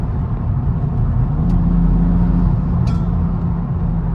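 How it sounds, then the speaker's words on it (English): A BMW M235i engine drones steadily from inside the cabin during a rush-hour drive in South Africa, a continuous low rumble with mild revving and a couple of faint clicks, no talking. "Oh, this car sounds amazing,"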